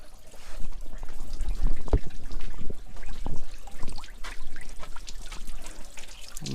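Water and old antifreeze draining and trickling from a vintage car radiator being flushed, an uneven splashing pour with gurgles and a few sharper drips, close and fairly loud.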